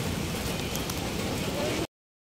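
Steady rain pours down outdoors where stray cats shelter, a dense continuous hiss of drops on surfaces that holds even and loud before stopping abruptly.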